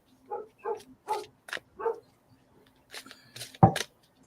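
A Great Pyrenees barks in short, spaced bursts, five or six deep woofs close by, with a quieter pause and a final louder bark, in an indoor room.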